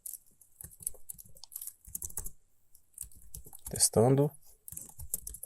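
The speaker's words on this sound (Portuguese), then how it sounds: "a digitação tá aquela maravilha" Quick, light clicks of typing on a computer keyboard during spreadsheet work, in short scattered bursts, with someone speaking briefly over them.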